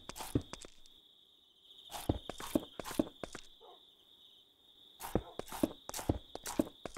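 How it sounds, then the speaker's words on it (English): Horse hooves clop in the Minecraft video game, quick bursts of two to four hoofbeats in a cluster then a pause, repeated several times over a steady high-pitched tone, fairly faint and close. "I heard the horse."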